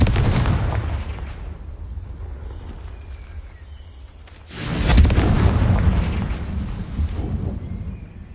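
A Confringo blasting spell explodes in the video game Hogwarts Legacy: one loud, booming blast that hits sharply and rumbles before trailing off, following a first noisy burst that fades out.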